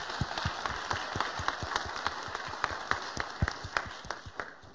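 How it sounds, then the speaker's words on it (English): A sparse conference audience at an awards session gives light applause, scattered individual hand claps ringing out at an uneven rhythm, fairly quiet and thinning toward the end. "we can give them an applause."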